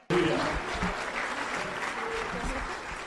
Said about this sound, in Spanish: Ese aplauso es de gratitud a Dios y a Él por el esfuerzo